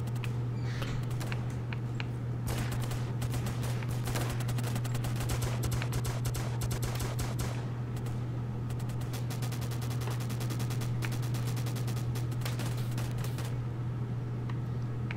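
Video game gunfire with repeated clusters of sharp cracks and automatic bursts that come and go over a steady low electrical hum, with no talk.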